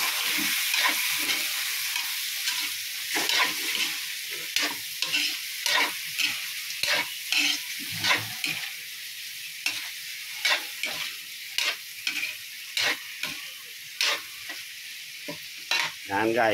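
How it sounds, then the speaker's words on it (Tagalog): Shrimp cooks in a pan with coconut pulp and red chili while a spatula stirs it in quick, repeated scraping strokes over a constant bright sizzle. The sound is close and loud, with a brief spoken remark. "Ihalo natin yung ipon. Ayan guys, yung ipon. Luto natin yung ipon."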